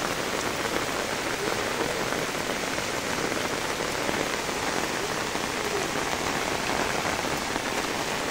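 Steady drizzling rain falls over flooded fields in Kaharol, Dinajpur, Bangladesh, a dense, even hiss that runs unbroken the whole time with no voices.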